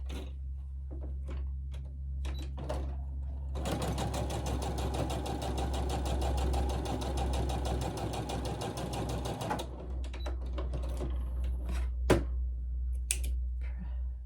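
A sewing machine stitching quilt pieces, a close steady rapid mechanical whirr for about six seconds in the middle, with quiet fabric handling and small clicks before and after.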